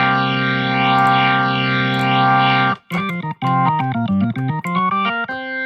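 ToneStack rock organ patch built for a classic rock organ sound, with stereo width added: a sustained distorted chord swirling with chorus, then a run of choppy staccato organ chords with echo, loud and alone.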